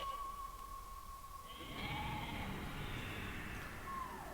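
A sheep in the video game Okami lets out one drawn-out, wavering bleat in the second half, sounding over a steady in-game background tone.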